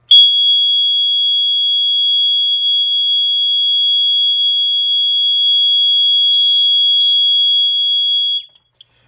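A Simplex-rebranded Gentex GX90 fire alarm horn running on full-wave rectified power gives one loud, continuous, steady high-pitched tone that holds for about eight seconds alone and then cuts off abruptly.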